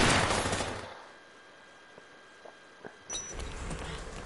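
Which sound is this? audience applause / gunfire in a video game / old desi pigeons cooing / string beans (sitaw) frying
gunfire in a video game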